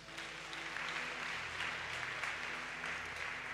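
A church congregation applauds Jesus Christ during a worship service, with continuous, fairly faint clapping over a low musical hum for several seconds.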